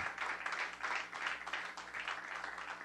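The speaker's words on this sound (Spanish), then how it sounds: "él se goza con esos aplausos" A church congregation claps together in a steady, rhythmic pulse of many hands, fairly faint and distant, with a low hum underneath.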